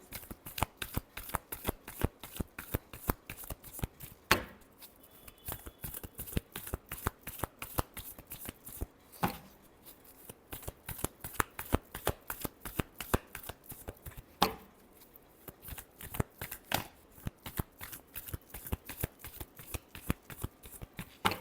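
Tarot cards being shuffled by hand, a steady run of quick riffling flicks and soft slaps, close and clear with brief pauses between bursts, no talking.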